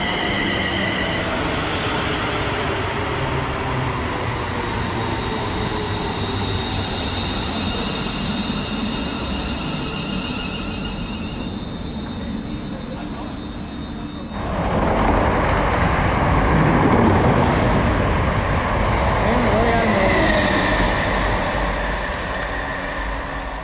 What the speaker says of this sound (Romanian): Trenul NR clasa 350 venind de la Birmingham.